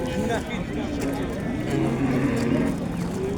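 Cattle low and moo at a busy livestock bazaar in Chust, with drawn-out calls rising over a steady crowd murmur while people talk nearby.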